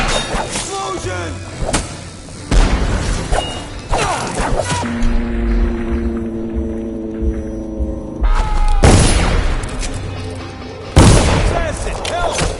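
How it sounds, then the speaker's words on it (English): A loud, booming explosion from the stealth game Dishonored, with heavy low thuds and crashes among game effects while voices talk and shout around it. "Explosion!"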